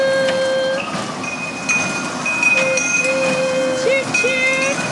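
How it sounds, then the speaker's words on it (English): A passenger train at UTC rolls along with a steady rumble and clear, sustained tonal whines. Voices talk over the ride throughout. "Choo-choo."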